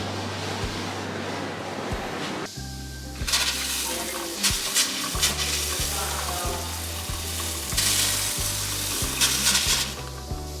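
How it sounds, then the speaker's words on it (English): Water rushing through pipes just after being turned on, a steady hiss and gush with irregular knocks and bursts of louder flow, heard alone. "They just turned the water on so you can hear the water rushing."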